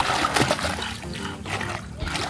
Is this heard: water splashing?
yes